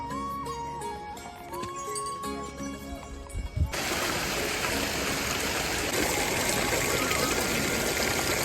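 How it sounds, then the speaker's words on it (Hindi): Cold meltwater stream running down from snowy mountains on a trail toward Kedarnath, a steady loud rushing flow close by, after a few seconds of other sound. "भाई पहाड़ों का एकदम ठंडा पानी है, एकदम पहाड़ों से पिघल के आ रहा है भाई"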